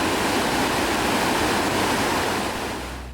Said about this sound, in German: dass der Regen der letzten Tage die Flüsse ordentlich gefüllt hat